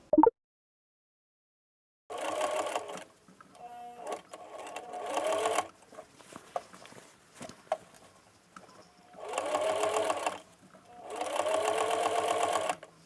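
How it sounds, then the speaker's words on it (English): A sewing machine stitches through layered fabric at a skirt waistband, running in several loud close bursts of rapid whirring separated by quieter pauses with small handling clicks. "Now I'm going to sew all layers close to the edge of the waistband."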